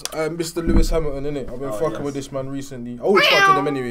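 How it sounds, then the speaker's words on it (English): A cat gives a short meow near the end, heard beneath and among a man's continuous close-up talking. "No, that was just a cat."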